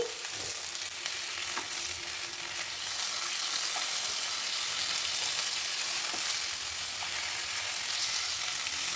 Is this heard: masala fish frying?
yes